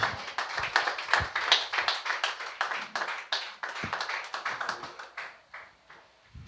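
A church congregation claps steadily during prayer, with dense overlapping hand claps in a fairly close room, tapering off slightly toward the end.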